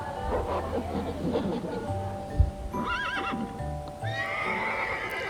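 A horse in a video game neighs loudly and whinnies midway through, its calls standing out over steady game music and a shuffle of hoofbeats, with no talk.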